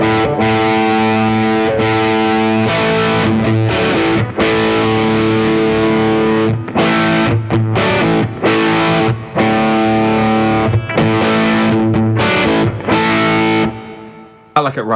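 Electric guitar played through a Suhr Riot distortion pedal with its three-way switch in the middle position, giving a thick, saturated, mid-heavy tone as sustained chords and riffs ring out loud and continuous with brief gaps.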